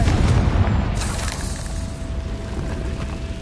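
In the Hogwarts Legacy video game, a Confringo blasting spell goes off as a loud, booming explosion, with a sharp burst near the start that trails into a rumbling roar inside a cave.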